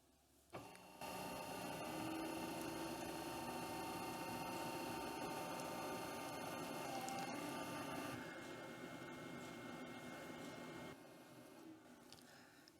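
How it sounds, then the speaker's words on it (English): A Nagual electronic composter switched on and running in a kitchen, a quiet steady mechanical hum with faint whirring tones that starts abruptly and continues evenly at moderate distance, no talking. "I'm going to turn this on now so you can hear the noise that comes from the machine"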